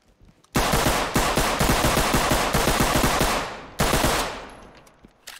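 Sustained rapid gunfire in the tactical shooter game Ready or Not, a loud dense burst of rhythmic shots lasting about three seconds, a pause, then a second shorter burst that tails off.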